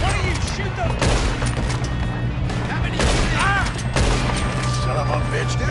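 A shootout in Red Dead Redemption 2 brings loud, dense gunfire and booming shots, fired in quick succession up close, while voices shout over the din.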